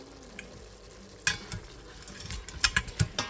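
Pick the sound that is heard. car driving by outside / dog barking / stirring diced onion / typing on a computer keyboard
stirring diced onion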